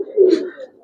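A Giribaz pigeon, an old-breed bird kept at home, gives a single short, soft coo lasting under a second, close and alone without any talk.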